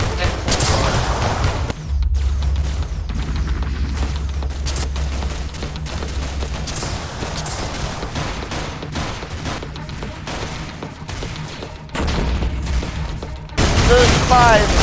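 Video game gunfire in a Minecraft Clone Wars battle, with dense, rapid bursts and blasts going on continuously and loudly while players talk over the fighting.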